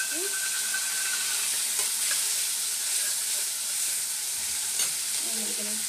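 Cumin, cinnamon, cloves and cardamom fry in hot oil in a pan for a Bengali potato paneer dish, with a steady, close hiss and crackle throughout.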